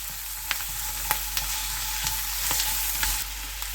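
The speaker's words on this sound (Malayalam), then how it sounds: "നമുക്ക് സോട്ട് ചെയ്ത് കൊടുക്കാം." Onion, garlic paste and pork sautéing in a pan for a restaurant-style pork fry, a loud continuous sizzle with a few light spatula scrapes and taps, no voices.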